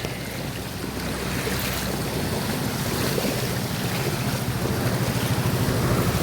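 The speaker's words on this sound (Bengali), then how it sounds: "দেখো জাস্ট সমুদ্রের মতো ঢেউ আসছে।" Flood water in Kerala at night surges in sea-like waves, a steady, loud rushing and churning wash with wind buffeting the microphone throughout.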